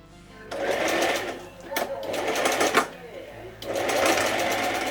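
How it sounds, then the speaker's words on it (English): A sewing machine stitching fabric runs in steady bursts of rapid mechanical stitching, pausing briefly twice before whirring up again, close and fairly loud. "I then ran those pieces through the sewing machine"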